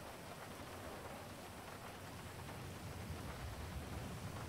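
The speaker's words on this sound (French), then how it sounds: "Je cours sous la pluie" Steady rain hisses in the video game GTA, a dense even wash of falling drops with no breaks, faint and continuous with no voices.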